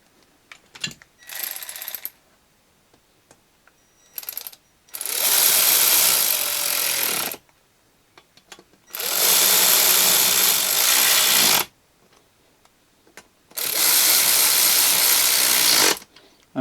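A hand ratchet tightens casing bolts in diagonal order on a small engine conversion, with three long, loud bursts of rapid clicking separated by quiet gaps and a few brief tool knocks before them.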